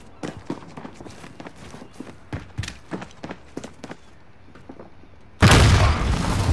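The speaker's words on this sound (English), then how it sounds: "suicide bomb" A loud suicide bomb explosion erupts in Call of Duty: Modern Warfare, a sudden sustained roaring blast after a run of quick footsteps and light thumps.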